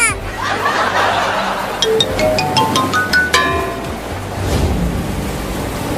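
Flood water waves in a cat cartoon comedy make a steady, loud, surf-like rushing wash. A rising, whistle-like cartoon effect sweeps up partway through.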